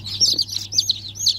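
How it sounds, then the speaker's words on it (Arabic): High, thin chirps of many chicks peeping close by, overlapping in quick bursts over a low steady hum. "معانا كميه من الطيور اهي"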